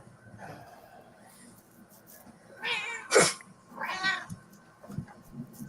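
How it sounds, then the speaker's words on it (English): A cat meows twice in the middle, the calls fairly close and clear over a quiet room hum with faint background murmur. "You've upset the cat, Jack."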